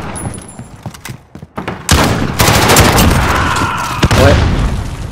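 Call of Duty: Modern Warfare machine gun fire, sharp scattered shots giving way to a loud sustained burst of rapid gunfire with booming impacts, up close.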